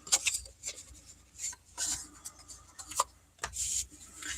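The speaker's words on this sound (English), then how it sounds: "I'm just folding these all on the score lines and I'm rubbing" Folded paper card stock rubbed firmly along its score lines while making a triple-layer pop-up card, heard as close, dry scraping strokes in short irregular bursts with brief pauses between them.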